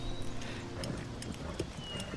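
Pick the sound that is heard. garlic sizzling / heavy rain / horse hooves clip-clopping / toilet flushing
horse hooves clip-clopping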